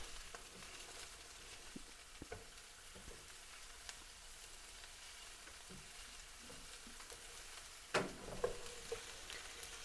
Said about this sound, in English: So we're just cooking the onions lightly just so that they becomes a bit see-through, just sauteing them.